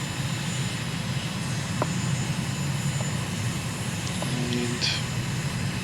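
A steady, loud drone of a propeller aircraft engine in a flight simulator while approaching an airport in the Bahamas, continuous and even with faint clicks over it.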